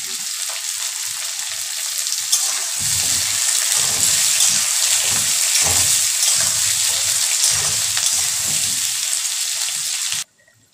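Cut potatoes frying with spices in hot oil for a fish curry, a steady close hissing sizzle with faint stirring bumps, running evenly before cutting off abruptly near the end.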